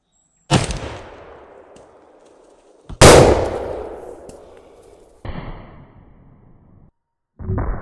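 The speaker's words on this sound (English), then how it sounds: "going to stick it down in this big old gun and shoot this ballistic gelatin" Loud, close shots from an 1887 Winchester lever-action rifle firing a 900-grain 70-150 WCF bullet into ballistic gelatin outdoors: three heavy blasts with long ringing decays, the middle one loudest, then a fourth report starting at the end.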